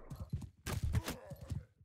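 A horse's hooves clip-clop in Mount and Blade 2: Bannerlord, a quick run of close, loud, evenly spaced thuds with a brief heavier burst near the middle, heard on its own without talk.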